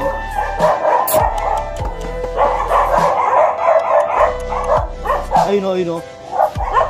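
A Rottweiler barks close and loud in repeated sharp bursts, with whimpers mixed in, while people talk over it.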